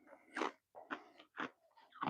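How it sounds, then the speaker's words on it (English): Ice is crunched in the mouth at close range, with four or five loud crackling bursts of chewing in an uneven rhythm and short quiet gaps between them. "Sorry, I'm crunching ice."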